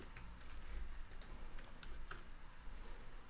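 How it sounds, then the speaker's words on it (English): Quick tapping on a computer keyboard, soft and close, with irregular clusters of key presses and brief pauses between them. "I will just type new message."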